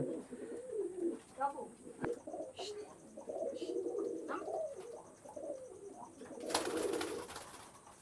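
Soft pigeon cooing murmurs through the clip beneath people talking nearby, with a brief rustle or flutter toward the end.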